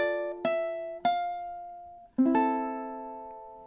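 A ukulele plays measure 2 of an Avatar: The Last Airbender inspired song, a few plucked notes and strums ringing out one by one, close and clear with no talking.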